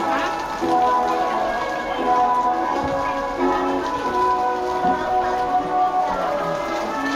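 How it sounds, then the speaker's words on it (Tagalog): Steady rain pattering on a hard surface, a dense continuous patter with no pauses, fairly close and loud throughout. "Nabot na tayo ng ulan."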